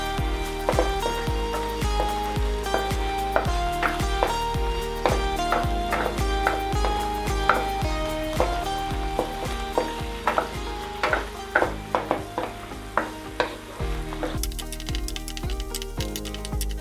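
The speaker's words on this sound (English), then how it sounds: "Continue stirring for a minute or 2, then add the mushrooms." Garlic and mushrooms sizzle steadily in butter as they are stirred in a pan for Filipino beef salpicao, with a continuous frying hiss under a rhythmic background melody.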